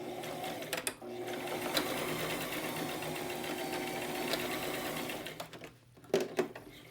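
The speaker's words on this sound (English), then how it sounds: "Now, see, we have sewn our little darts." A sewing machine stitches fabric darts in a steady continuous whir, running almost without pause before a brief stop near the end and a few short bursts after.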